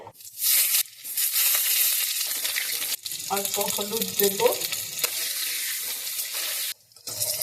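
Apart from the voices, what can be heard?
potatoes frying in hot mustard oil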